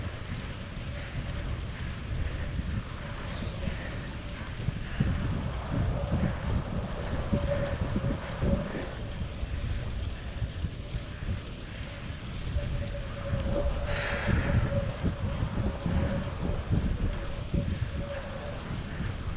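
Long stretch of steady headwind roaring over the mic of a bike-mounted camera along the Pacific beach path, dense low buffeting throughout with a faint tone and brief higher hiss partway through.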